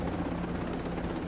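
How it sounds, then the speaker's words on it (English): A steady low rotor drone of a helicopter in the video game Ghost Recon Breakpoint, fairly loud and continuous throughout, with no voices over it. "Helicopter too."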